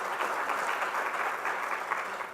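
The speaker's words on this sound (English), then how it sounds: "Can I get a round of applause for them, please?" Steady audience applause at a healthcare conference in the Cayman Islands, a dense, even wash of clapping that carries on at moderate volume from start to finish with no voices over it.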